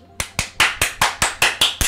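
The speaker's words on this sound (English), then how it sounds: "Golf clap." Slow, polite golf clapping: about nine crisp, evenly spaced claps close to the mic, with no talking between them.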